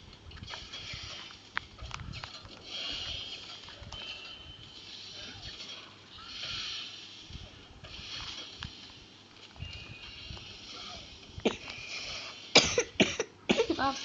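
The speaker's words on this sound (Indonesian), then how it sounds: "Maaf, saya batuk." Repeated coughing throughout, several short harsh bursts at irregular intervals, with louder sharp bursts near the end.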